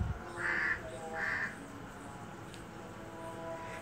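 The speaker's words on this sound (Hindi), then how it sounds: "और कौवे भी बोल रहे हैं" Crows caw twice in quick succession, fairly far off and moderately loud, over a steady outdoor background hiss.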